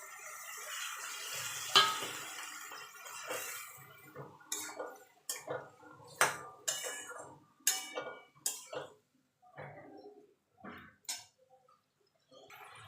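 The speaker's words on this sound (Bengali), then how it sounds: "সামান্য একটু জল দিয়ে ভালো করে মশলাটা কষিয়ে নেব" Spice paste with a little water is stirred and sautéed in a pan for a potato and pointed gourd curry, with repeated scraping and clinking strokes of a spoon against the metal pan and a soft sizzle underneath, close by and moderately quiet.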